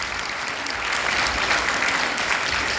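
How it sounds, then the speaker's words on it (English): An audience at a live film screening Q&A applauds, a dense, steady wash of clapping that swells slightly midway and holds for a few seconds, fairly loud and close, with no talk over it. "Give me a round of applause for that."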